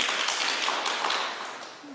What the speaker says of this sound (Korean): 박수 한번 칩시다, 우리.